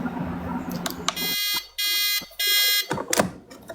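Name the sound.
fancy coffee pot alarm beeping that the drip is closed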